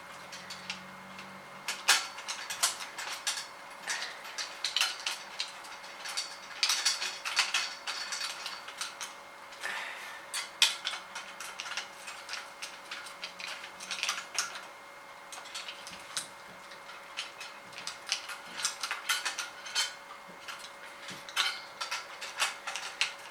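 Screws are tightened while assembling a 10 shelf shoe rack, a faint, quiet stream of small ratcheting clicks and light metallic taps in an irregular rhythm, close by with no talking.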